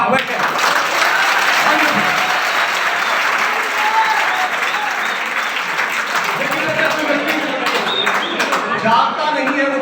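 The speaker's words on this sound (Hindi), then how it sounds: "एक बार जोरदार तालियां की" Enthusiastic applause from a student audience at a college career counselling and motivational seminar fills the hall, dense sustained clapping that stays loud throughout before thinning slightly near the end.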